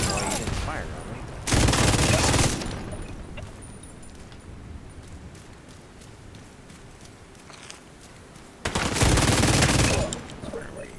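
Gunfire in the video game Tom Clancy's The Division 2 comes in two loud bursts of rapid automatic fire, separated by a quieter stretch of faint movement and ambient game sound.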